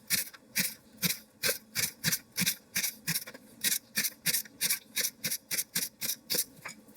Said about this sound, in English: If you want rings, you cut this way.